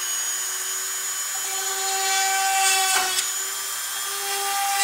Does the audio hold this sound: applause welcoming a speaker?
no